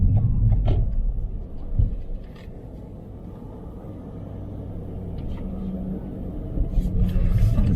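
A car on a driving lesson rolls through a roundabout, its engine a steady low rumble close in the cabin, rising slightly toward the end, with no talk.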